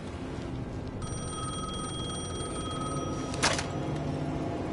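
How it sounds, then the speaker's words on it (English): A telephone in the video game Alan Wake 2 rings with a steady electronic trill for about two seconds, then a sharp click cuts it off, all over a low, constant ambient hum. "The phone was ringing again."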